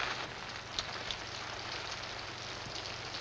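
Steady rain patters on a surface, a soft continuous wash of drops with a few slightly louder taps, no voices.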